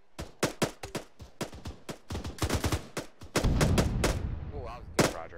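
Rapid bursts of gunfire in a military video game training session, sharp shots in quick irregular volleys, some clustered like automatic fire, followed by a louder sustained rumble of heavier firing.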